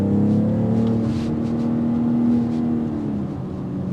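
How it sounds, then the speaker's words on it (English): The inline-six of a 2025 BMW X4 M40i or X3 M50 hums in Sport Plus at high revs from inside the cabin, a steady loud drone with a slight rise and fall in pitch, no voices. "And it stays at a high rev because it's ready for you to be more engaged, which I like that in Sport Plus."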